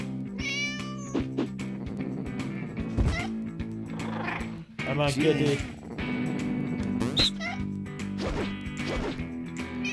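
A cat meowing in the No More Heroes 2 video game, several high meows among thuds and crashes, with someone talking over the noise.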